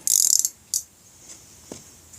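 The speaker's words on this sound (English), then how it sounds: "I'm using a ratchet" Ratchet wrench turning a bolt on a homemade rectifier bracket, a quick burst of clicking followed by a couple of shorter isolated clicks, close and fairly quiet.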